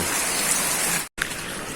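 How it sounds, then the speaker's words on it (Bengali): Rain falls steadily on surfaces in a village, a dense even patter close around, broken by a brief dropout near the end. "এই যে এখন একটু বৃষ্টি কমছে"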